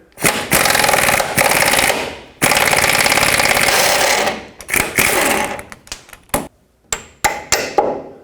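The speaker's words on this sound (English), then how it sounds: "you can hammer out the bolt" A hammer strikes a front lower control arm bolt on a 2007-14 Chevy Silverado in rapid metallic bursts, first in long sustained runs of blows, then in shorter separated clusters with gaps of quiet between them.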